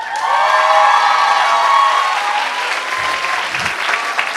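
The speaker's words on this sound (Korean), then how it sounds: "박수 다시 한 번만." Audience applause at a children's choir festival, a dense steady wash of clapping from a full hall that holds strong throughout and eases slightly toward the end.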